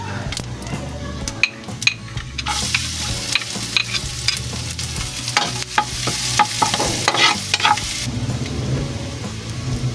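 Garlic frying in rendered pork fat in a pan for Filipino pinakbet, a loud steady sizzle with frequent scraping stirs and metallic clinks of the spatula against the pan.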